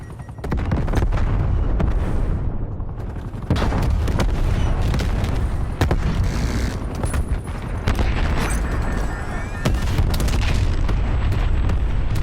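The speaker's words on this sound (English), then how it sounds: "Artillery targeting detected. Net call, incoming artillery." Incoming artillery explosions in the video game Call of Duty Black Ops Cold War, loud repeated booms and gunfire over a dense rumbling battlefield, with sharp blasts and a warning voice-over.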